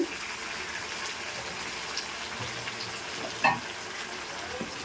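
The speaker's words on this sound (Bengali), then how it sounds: "তো দেখো মাংসটা কিন্তু আমি ভালো করে কষিয়ে নিচ্ছি তো এইবারটা আমি এর মধ্যে দিয়ে দেবো আলু" Meat being browned in a cooking pan with potatoes tipped in, giving a steady soft sizzle and frying hiss with a brief louder splash-like burst partway through.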